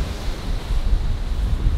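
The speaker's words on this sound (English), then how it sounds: "Wow, look at those waves." Rough ocean waves surge and churn beside a Disney Wonder cruise ship's lower deck, with strong wind buffeting the microphone in a steady, loud low roar throughout.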